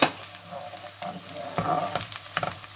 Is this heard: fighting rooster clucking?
no